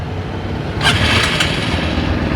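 A motorcycle on a rider-training course being started: a loud continuous engine rumble swells briefly as it catches, then settles into a steady idle, close by with no talk.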